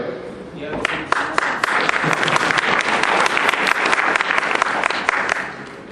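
Lecture audience applause for a talk on Vedic culture rises quickly into dense, lively clapping from a sizeable crowd, holds for several seconds, then tapers off.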